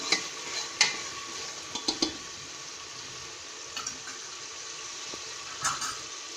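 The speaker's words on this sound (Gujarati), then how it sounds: "આપણે તેમાં ઝીણી સમારેલી ડુંગળી એડ કરીશું। તેમને પણ સતળાવા દઈશું।" Finely chopped onion sautéing in a pan, a soft, steady sizzle with a few brief clinks and scrapes of stirring scattered throughout, close and without any talking.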